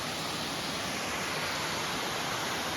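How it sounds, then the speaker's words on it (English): Snow runoff pours down a small waterfall on a mountain hiking trail up Sulphur Mountain, a steady, even rush of falling water heard close by and alone, with no break across its short span. "Cool little waterfall here on the hike"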